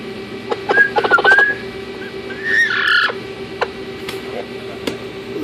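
An Amazon parrot in a nesting box whistles a quick run of clear, rising notes, then gives a rougher squawky call, with scattered clicks and taps close by in a quiet room.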